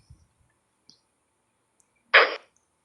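A single sharp mouse click on the buy button of a trading app, close and crisp, alone in an otherwise quiet moment with a few faint ticks before it.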